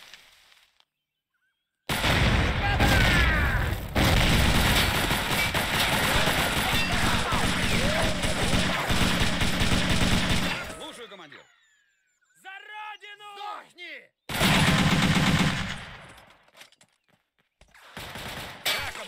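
Dense bursts of automatic gunfire and explosions in the World War II strategy game Faces of War, loud and continuous for several seconds, then a brief gap with scattered battle noise before another heavy burst.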